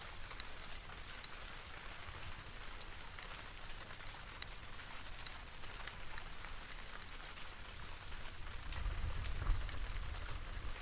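Rain pours down at a windy coast during a high tide, a dense, steady hiss of drops striking surfaces close by, with a deeper rumble swelling near the end.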